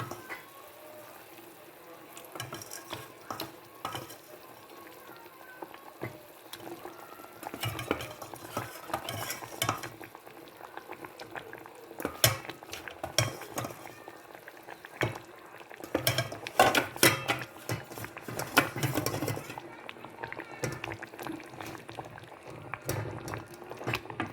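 Rock fish pieces being added to a bubbling Tamil-style fish curry and stirred in the pot, with scattered spoon scrapes, clinks against the vessel and soft simmering, moderately close, no talking.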